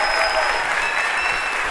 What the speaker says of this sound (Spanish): Un fuerte aplauso para el señor de la noche